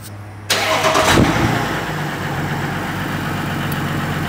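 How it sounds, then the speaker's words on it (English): A 3.0 Duramax diesel truck engine starting cold: a sudden crank and catch, a brief rev, then a fairly quiet, steady idle. "Let's go ahead and do a cold start."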